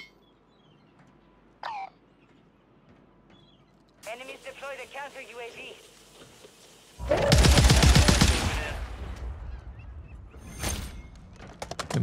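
Bursts of automatic gunfire from teams fighting nearby in the battle royale game Warzone, loud rapid rattling volleys in the second half, with speech and other game sounds earlier.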